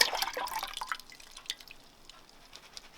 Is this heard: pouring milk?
yes